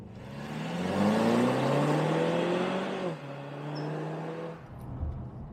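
A Mercedes C300 W205 with a 2-liter turbocharged four-cylinder accelerates through rising gears from inside the cabin, its engine note climbing, dropping at a shift, then settling into a quieter drone.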